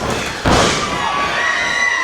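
A wrestling crowd at a New South HOSS qualifier match erupts into loud cheering and shouting after a heavy thud, the roar swelling suddenly and then holding steady.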